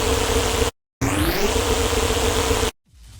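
Harsh, metallic synth screech from Serum 2 run through a ring-modulation filter with drive, a dense buzzing tone with a rising sweep, cut by a brief silence and ending abruptly; no talking.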